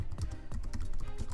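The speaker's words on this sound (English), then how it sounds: "I'm going to carry on typing" Rapid typing on a computer keyboard, a close, steady patter of quiet key clicks with no voices over it.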